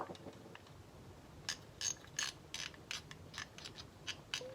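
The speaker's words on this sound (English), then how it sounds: "make sure that it's actually fully closing the butterfly" Honda CL350 Scrambler carburetor throttle butterfly worked open and shut after a 25-year layover, giving a series of short, faint mechanical clicks and scrapes at an irregular pace in a quiet room.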